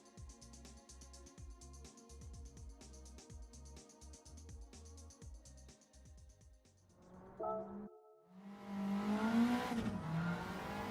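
A turbocharged race car engine in Gran Turismo 7 at Suzuka revs in repeated sharp bursts with a rhythmic rattling, then drops off before roaring up loudly again near the end.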